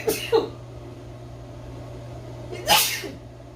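Two sneezes set off by Jamaican curry powder up the nose while cooking curry chicken, a short one at the start and a louder, fuller one near the end, close to the mic over a steady kitchen hum with no talk.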